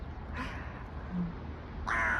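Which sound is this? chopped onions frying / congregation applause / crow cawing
crow cawing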